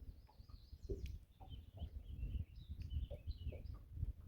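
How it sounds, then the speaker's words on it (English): A big hen clucks repeatedly at close range, short soft clucks in an uneven rhythm with a few higher calls mixed in, no talk over it. "Big old hen."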